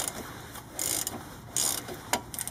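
A 14mm wrench turns the upper caliper slide pin on the front brakes of a Mitsubishi Lancer, making several short bursts of ratcheting clicks close by with brief pauses between them.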